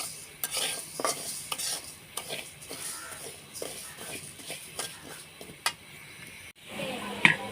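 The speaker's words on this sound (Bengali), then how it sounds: "মুগের ডালটা প্রথমে ভাজা করতে হয়" Dry mung dal is stirred in a pan, giving a rhythmic series of scraping, rustling strokes over a soft sizzle, each stroke distinct and fairly close, with a brief pause before a final clatter.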